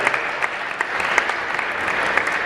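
An audience breaks into strong applause to welcome a guest at a Holocaust remembrance event, dense close clapping with a few sharper individual claps standing out throughout.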